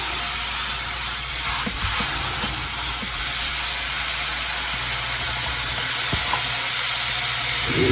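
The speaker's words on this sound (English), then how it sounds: "Oh yeah, hear that sizzle." A smashed burger patty sizzles loudly on a stovetop griddle, a constant close hiss and crackle that persists without a break, no talking.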